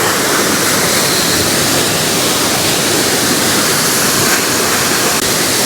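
A waterfall on the road to Kinnakorai in the Nilgiris roars as a dense, steady, close rush of falling water, loud and unbroken throughout, with no voices.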